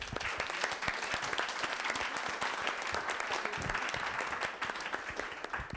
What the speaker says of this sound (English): big round of applause for Earthling Ed.